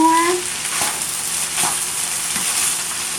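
Fried rice with soy sauce sizzles steadily in a hot pan while being stirred, a close, continuous frying hiss broken by soft scraping strokes of the utensil.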